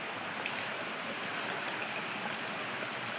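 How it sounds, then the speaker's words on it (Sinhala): Water runs steadily through channels on the old Kuruwita–Erathna trail up Sri Pada, toward the upper terrace: a continuous, even rushing of a stream, close and unbroken, with no voices. "මේ වට වලින් තමයි මේ උඩ මළුවට වතුර යන්නේ."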